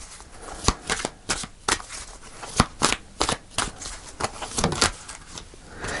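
Tarot cards are riffled and flicked close up, with a quick series of sharp papery snaps and shuffling bursts in an irregular rhythm, fairly clear against a quiet background.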